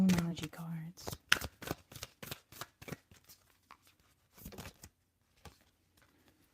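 Moonology tarot cards are shuffled up close in a quiet room, producing a rapid run of soft papery riffles and flicks that thin out into a few sparse taps.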